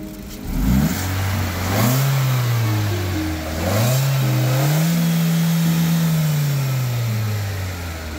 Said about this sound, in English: Now let us start the engine and see how it sounds like.